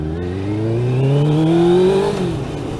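A 1998 Suzuki GSX-R 600 sport motorcycle engine revs up while riding, a loud, close whine rising steadily in pitch before dropping off.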